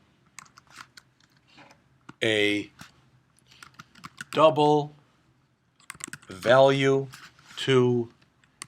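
Computer keyboard typing, a string of soft clicking keystrokes sitting under and between a man's close, clear speech.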